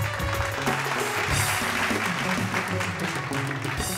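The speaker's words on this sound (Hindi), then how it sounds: "जोरदार तालियां।" A studio audience applauds on a Bhojpuri TV game show, a steady dense wash of clapping that holds for the full stretch with music tones running underneath.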